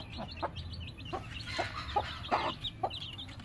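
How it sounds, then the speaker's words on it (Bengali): Three-day-old chicks and hens being cared for at home, clucking and peeping in short repeated bursts, close and fairly quiet, with no talking over them. "বন্ধুরা দেখো আমার মুরগির বাচ্চাগুলো দেখো"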